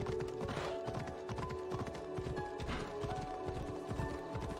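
A horse gallops in the video game Assassin's Creed Odyssey, with rapid steady hoofbeats drumming up close and continuously and no talk over them.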